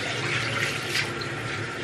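A tap runs steadily into a sink while the water warms for hand washing, a continuous close hiss of flowing water with no voices.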